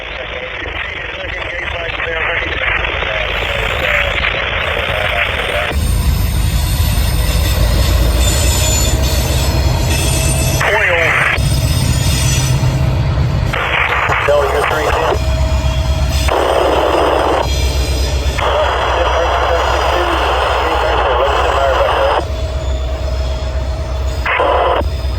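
Train rolling past at Salisbury, North Carolina, loud and close throughout, with grinding wheel noise, shrill flange squeals and brief metallic tones rising and falling as cars pass; no talk.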